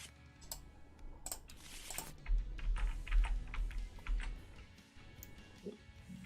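A deck of game cards shuffled on a table gives a run of quick, light, irregular clicks and flutters, close and fairly quiet, with a low rumble in the middle and no talking.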